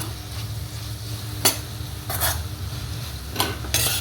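Ginger, garlic and curry leaves sauté in a hot pan for a kurma: a soft ongoing sizzle broken by several sharp scrapes and clacks of a spoon stirring against the pan.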